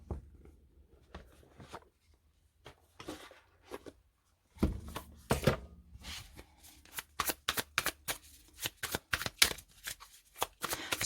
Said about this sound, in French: je vais juste brasser, mélanger un petit peu, et ensuite, je vais prendre les cartes une par une